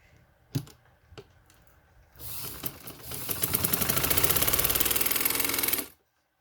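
A few mechanical clicks precede a sewing machine running a straight seam on palazzo fabric, its rapid rattling stitch building to a steady, close, loud run before it abruptly stops.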